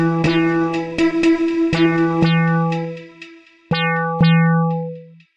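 A Serum synth deep womp patch layered with a pads pluck plays a sequence of bright plucked tones, several quick notes followed by a pause and two more sustained hits, each decaying smoothly, loud and close with no talking.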